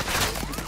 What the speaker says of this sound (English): Where the fuck that shooting from?